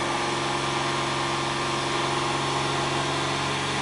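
A 2006 Nissan Xterra engine held at raised RPM, a steady, dense, loud drone without clear rises or falls, close up with no voices.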